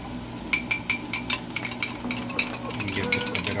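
Food stirred in a pan with a utensil, producing a steady series of light scraping clinks and taps against the pan over a low sizzle; no one speaks.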